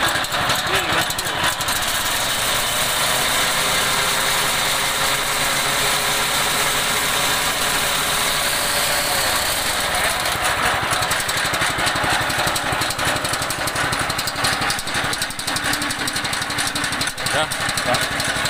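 A chopper machine's engine runs at full throttle, a loud, steady mechanical roar that continues for the whole stretch with no breaks and shifts slightly in tone partway through.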